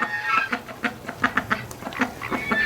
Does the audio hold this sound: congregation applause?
no